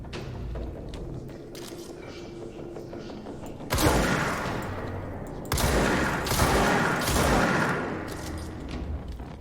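A powerful sniper rifle fires in the video game Control, with sharp, loud bursts of gunfire around the middle of the stretch, some of them rapid, over a quieter ambient background.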